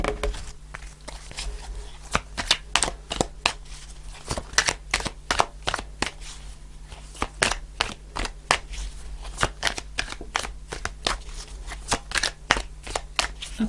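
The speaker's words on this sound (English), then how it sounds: "I'll do a couple more shuffles" Tarot cards shuffled by hand during a reading, giving a long run of quick papery riffles and soft slaps in an irregular rhythm, close and fairly loud with a low steady hum underneath.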